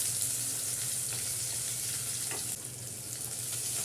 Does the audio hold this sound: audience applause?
no